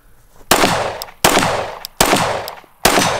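Four loud, close gunshots fired at a target at an outdoor shooting session, evenly spaced about three quarters of a second apart, each a sharp crack followed by a short decaying boom.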